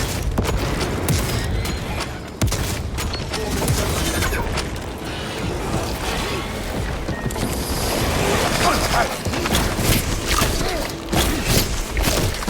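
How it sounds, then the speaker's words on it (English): A frag grenade explosion in the Space Marine 2 video game, a heavy boom set within dense, continuous battle noise of gunfire and crashes, with game voices talking throughout. "Using frag grenade."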